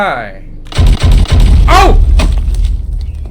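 A motorbike explodes in the video game Make Good Choices, a loud booming burst followed by heavy thuds and crackling debris, with a voice speaking over it.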